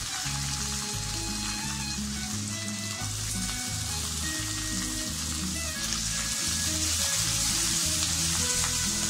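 Curry leaves and green chillies sizzle loudly in hot oil for a hotel-style vegetable upma, a steady, dense crackle with a low tonal hum beneath, continuous throughout with no voices.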